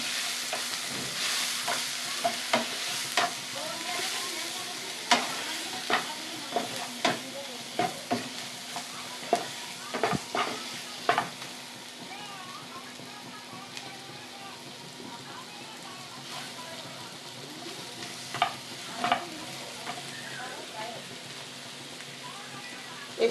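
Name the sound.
paneer with papaya and Kashmiri chili powder frying in pan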